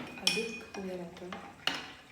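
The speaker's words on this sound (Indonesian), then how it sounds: "Aduk hingga rata." A spoon stirs milk powder and water in a glass, giving a few short clinks and scrapes against the glass, close and fairly quiet.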